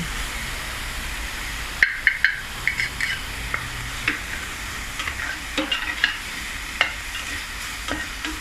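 Rice fries in a pan as a steady sizzle, with a spatula scraping and stirring in irregular sharp strokes throughout, nearby and moderately loud.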